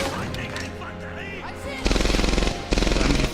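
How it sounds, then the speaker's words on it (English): A German MG42 machine gun fires in Medal of Honor: Airborne, loud rapid-fire bursts in two sustained volleys after a stretch of quieter battle ambience and music. "MG42's up there still, providing fire for Germans against us"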